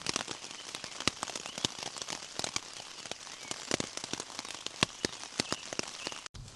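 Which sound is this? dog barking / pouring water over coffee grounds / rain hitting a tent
rain hitting a tent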